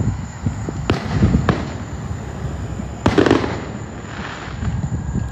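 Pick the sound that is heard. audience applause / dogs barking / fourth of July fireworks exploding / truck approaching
fourth of July fireworks exploding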